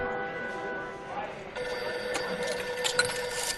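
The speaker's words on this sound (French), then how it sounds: "Ah, par contre, il y a le téléphone." A telephone rings in the video game L.A. Noire, repeated bell trills over steady background ambience, with voices talking at the same time.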